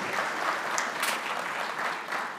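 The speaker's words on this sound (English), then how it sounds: "So can we give him a round of applause to take to the Governor?" A banking and finance conference audience delivers a continuous round of applause, thick even clapping from a large hall that holds steady throughout.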